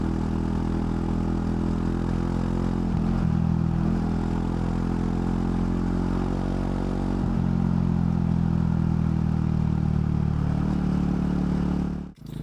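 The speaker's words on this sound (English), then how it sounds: "I think you rev it out like it's meant to be." A Royal Enfield Himalayan 450 motorcycle engine revs hard, a loud, steady, buzzing drone that rises and falls slightly in pitch before cutting off abruptly at the end.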